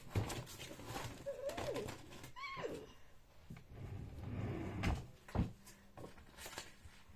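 A drawer is pushed shut after things are put away indoors, with a few soft knocks and clatters spread through a quiet room, plus faint squeaky chirps.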